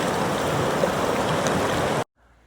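A cold mountain river with steaming, sulphur-smelling mineral water in Albania rushes as a steady, loud broadband flow, then cuts off abruptly near the end.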